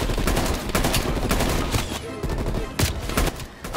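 Rapid gunfire and explosive bursts in the Call of Duty Black Ops Cold War video game, dense volleys of shots cracking in uneven clusters at close range.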